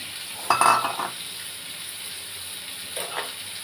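Greens and eggplant fry in a pan while being stirred, giving a steady hiss with a louder scraping burst near the start and a softer stir toward the end.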